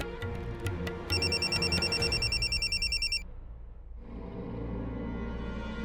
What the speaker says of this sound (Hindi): युग का फोन इस वक्त?